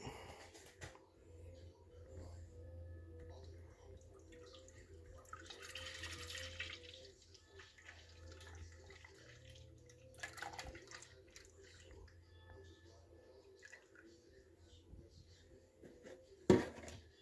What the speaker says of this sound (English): I'm gonna add the milk.